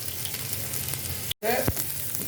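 Finely chopped medium onion and green chillies sauté in hot oil in a pan, a close, steady sizzle that cuts out briefly, then returns with scraping stirs.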